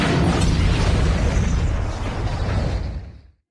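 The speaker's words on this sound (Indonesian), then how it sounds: "Hal itu membuat helikopternya oleng dan langsung meledak." A helicopter blows up in a film scene, a loud, broad boom with a rumbling burst that fills the moment and then decays and cuts off near the end.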